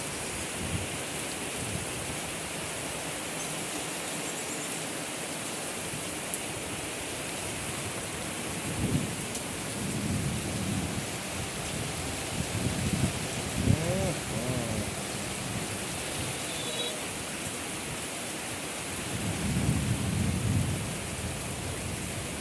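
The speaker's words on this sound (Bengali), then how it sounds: "যে বৃষ্টি শুরু হয়েছে" Heavy rain pours steadily in Bhutiya village, Madhupur, Tangail on a wet morning, a dense continuous hiss with low rolls of thunder swelling at intervals and a brief voice heard faintly underneath.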